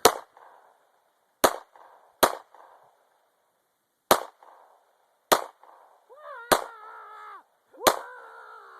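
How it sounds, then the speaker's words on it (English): Seven sharp, loud gunshots from a handgun and an AK-47 crack at irregular intervals outdoors while shooting at a Christmas tree, each followed by a short echo, with brief shouting between the later shots. "Shoot with your handgun."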